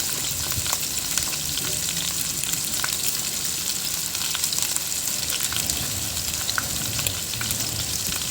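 Continuous sizzling and frying of pork adobo simmering in a pan with Sprite, close and steady with occasional crackles and stirring.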